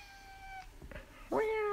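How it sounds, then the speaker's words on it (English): A cat meows close by, a short call followed by a louder, drawn-out meow, heard during a road trip with faint background noise. "Shut up, cat."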